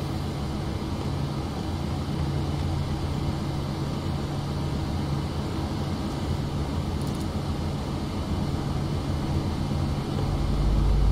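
Engine 1 of a PMDG 737 in a flight simulator spools up, a steady low rumbling drone with a constant broadband hum that grows slightly louder near the end.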